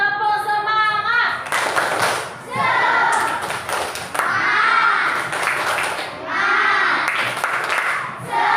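Classroom group doing a rhythmic 'tepuk semangat' spirit cheer: bursts of patterned clapping in unison alternate with loud chanted voices, repeating in several rounds.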